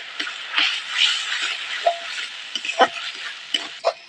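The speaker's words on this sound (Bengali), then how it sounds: "দিয়ে আবারও নাড়াচাড়া দিয়ে নেব" Onion dolma gravy being stirred in a frying pan: intermittent scraping spoon strokes over a soft background sizzle, close up, with irregular louder knocks and no speech.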